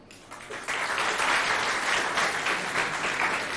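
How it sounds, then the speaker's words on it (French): An audience applauds for high school students at a school event, the clapping swelling after a brief softer start into a sustained, fairly distant wash of many hands. "Si vous êtes là, applaudissez pour vous, s'il vous plaît."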